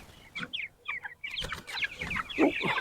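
Meat chickens cluck and peep close by while being moved out toward a chicken tractor, with busy overlapping calls that grow denser.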